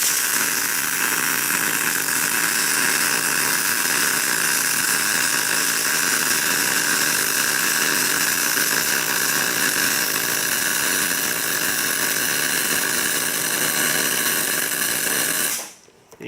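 Steady, loud crackling hiss of an arc weld being laid into a steel side piece, running continuously for about fifteen seconds before cutting off abruptly.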